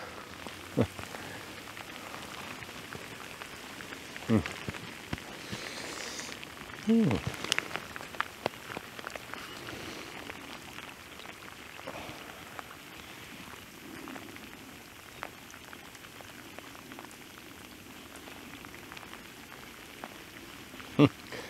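Steady rain patters on a canal throughout, with occasional louder drips and splashes and some faint movement noises in the background.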